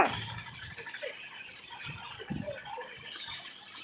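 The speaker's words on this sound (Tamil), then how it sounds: "தண்ணி ஆகப்பட்ட தண்ணி போயிட்டுக்குதே" A river swollen in flood rushes past at a distance, a soft, steady wash of flowing water with faint rattles, heard on its own.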